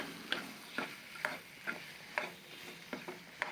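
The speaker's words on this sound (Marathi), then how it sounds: "आता आपण त्यामध्ये धुतलेले वाटाणे घालूया. हिरवे वाटाणे किंवा मटर." Washed green peas stirred in hot oil in a pan, with a spatula scraping in an even rhythm of about eight clear strokes over a faint, low sizzle.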